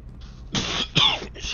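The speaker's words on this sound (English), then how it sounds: "Sorry, guys, didn't mean to cough in nobody's ear." A couple of short, close coughs, harsh and throaty, following a faint breathy sound at the start.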